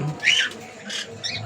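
An Indian ringneck parakeet gives a few short, harsh squawks at close range, spaced irregularly, with no talk over them.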